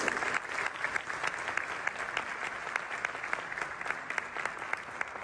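A concert audience applauds as a performer is welcomed to the stage at a Turkish tango and kanto evening by a Turkish art music ensemble: a dense, continuous crowd clapping with scattered sharper claps, fairly soft and steady throughout.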